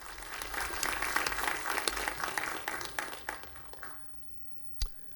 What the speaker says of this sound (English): All right, big applause.